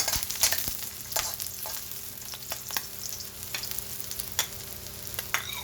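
Garlic frying in a hot pan for sinangag fried rice, a steady close sizzle with frequent sharp crackles and scraping stir strokes, no talking.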